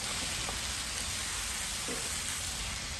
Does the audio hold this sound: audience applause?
no